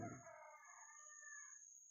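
A rooster crows once, a drawn-out call that fades, with a steady high-pitched tone running underneath.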